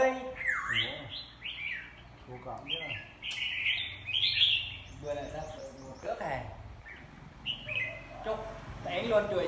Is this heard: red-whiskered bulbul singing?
yes